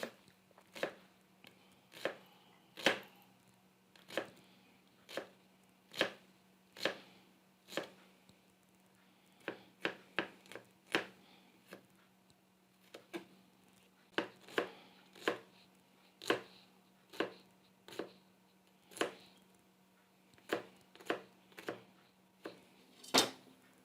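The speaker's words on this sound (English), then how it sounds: "And then just mince off the ends." A knife chops and minces the ends of vegetables on a cutting board for a French green lentil salad, about thirty crisp, evenly spaced knocks, some in quick pairs, close and clear with no talk.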